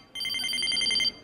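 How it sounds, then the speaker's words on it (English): A mobile phone rings during a podcast-style conversation, a loud, close trill of rapid repeated electronic pulses lasting about a second, heard alone with no talking over it. "somebody's phone started to ring"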